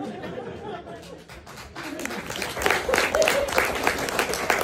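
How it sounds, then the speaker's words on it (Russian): An audience at a live comedy show claps steadily, the applause building louder midway and continuing with scattered chatter and laughter mixed in. "Не, они хлопают."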